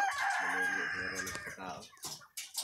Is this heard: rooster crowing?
yes